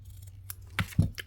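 Scissors snip through fabric while a vintage-style needlebook is being made, giving two or three short, close, crisp cuts in a quiet room.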